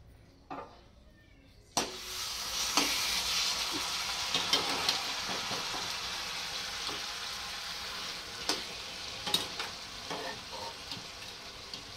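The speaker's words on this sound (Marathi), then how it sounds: "त्याच तुपामध्ये मी हे गाजरचा हलवा टाकून ते गरम तुपामध्ये" Steady broadband sizzling of grated carrot halwa frying in hot ghee, starting abruptly after a quiet moment, with occasional clinks and scrapes from stirring.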